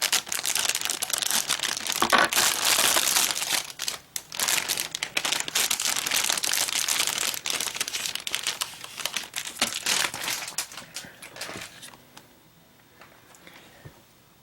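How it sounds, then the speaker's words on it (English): Plastic model kit runners for an RE/100 Bawoo being pulled out of their plastic bag: steady, close crinkling and rustling of bag film with scattered sharp crackles, continuing for many seconds. "So let's get all of those runners cut out of the bag and all ready"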